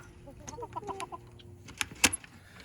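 Diamond Jubilee chickens in a homestead flock give a few soft, scattered clucks, close but faint, with a sharp clink of metal near the end.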